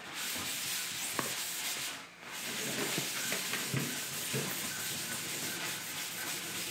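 Old cheap Scotch-Brite pad scrubbing the painted body of a Nissan Hardbody D21 truck, producing close, continuous abrasive rubbing and scratching strokes with a short pause midway.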